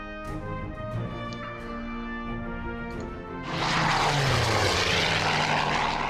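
Wildcat fighter planes fly in Order of Battle Pacific, a droning propeller engine tone underlying steady game music before a louder, broad roaring rush swells in and holds to the end.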